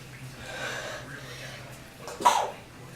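A single sharp sneeze bursts out near the end after a stretch of quiet breathing and faint background noise.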